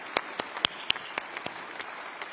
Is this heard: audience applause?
yes